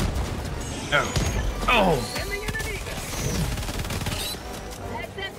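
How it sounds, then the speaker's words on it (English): Grenade blasts and gunfire in Helldivers 2 form a dense, chaotic battle mix with bursts of shots and booming impacts, while a voice calls out briefly over the action. "Eat this grenade. Eat this other grenade."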